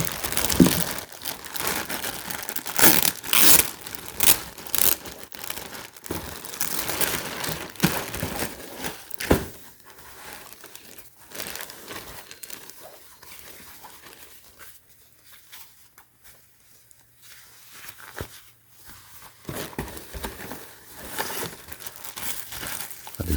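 Crinkling and tearing of packaging around a Cuisinart PerfectTemp cordless electric kettle, close and crisp in bursts of rustling plastic and cardboard, thinning to quiet handling in the middle before picking up again.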